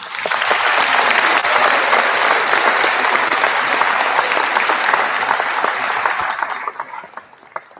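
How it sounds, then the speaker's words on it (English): Loud, sustained applause from the audience at a high school senior awards night, a dense wash of clapping that holds for several seconds before thinning out into a few scattered final claps. "Can we get a round of applause?"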